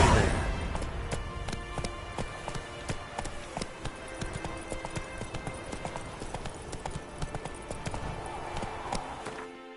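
Horse hooves from The Witcher 3 gallop in a fast, regular clip-clop rhythm, close and crisp, with rattling tack over a soft rumbling bed.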